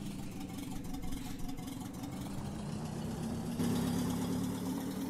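A car engine idles steadily in the driving game The Long Drive, a low continuous hum that rises slightly in level partway through, with no talk over it.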